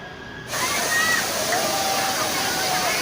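A person plunging into cold water at Curug Cigeuntis waterfall on Mount Sanggabuana, Karawang, gives a sudden burst of broad splashing that settles into steady, loud rushing water.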